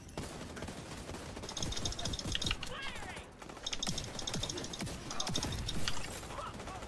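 Firecrackers going off during a co-op raid in an online video game, rapid crackling bursts and popping strings in several clusters, mixed with game effects and player chatter.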